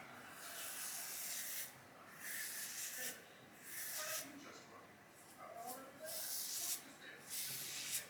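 A razor scrapes across a lathered head in short, rhythmic strokes, a faint, close rasping hiss repeated about every second with brief pauses between passes.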